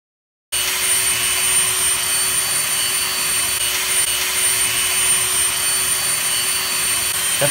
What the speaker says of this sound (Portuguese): Vou tentar tirar com essa Dremel pequenininha aqui, essa solda antiga aqui, mas tá comendo a broca inteira, o disco inteiro.